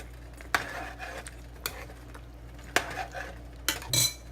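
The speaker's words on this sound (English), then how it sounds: "I'm just adding some tomato paste, and I'm gonna stir it up." Tomato paste being stirred into a pot of Guyanese-style chicken curry: several sharp metal spoon knocks and scrapes against the pot at uneven intervals, over a faint low simmer.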